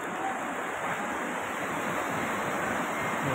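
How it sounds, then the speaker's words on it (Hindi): Water rushes steadily down a partly frozen waterfall in a snowy mountain setting near Yamunotri, a constant broadband roar with no breaks, close and moderately loud throughout. "ये झरने में पानी जा रहा है"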